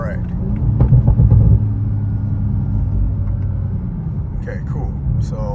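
A car fitted with a Leviathan turbo-back exhaust cruises at low revs, its low steady drone and road rumble running throughout, louder for the first moments, with a person talking over it.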